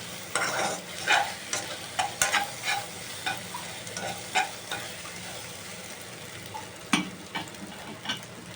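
Scrambled egg seasoned with salt and MSG fries and is stirred in a pan, a steady close sizzle punctuated by repeated scraping and clacking stirs throughout, with no talking.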